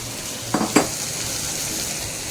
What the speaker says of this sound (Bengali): এখানে হচ্ছে একদম কষা কষা করে সোয়াবিন